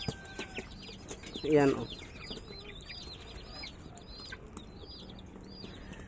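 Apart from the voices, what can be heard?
hungry pet chicks clucking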